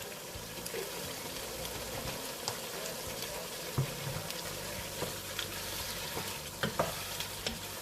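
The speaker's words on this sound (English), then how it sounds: "I'm going to go in with another tablespoon of minced garlic." Minced garlic fries in a pan, a close, continuous sizzle broken by scattered scraping clicks of a utensil stirring, with no voices.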